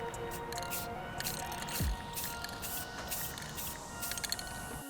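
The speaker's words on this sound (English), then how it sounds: "we're basically just going to spray the product nicely around" A spray coating is applied outdoors to a product with a steady, continuous hissing spray that runs the whole time at an even, moderate level.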